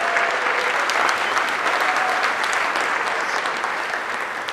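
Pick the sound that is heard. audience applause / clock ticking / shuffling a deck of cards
audience applause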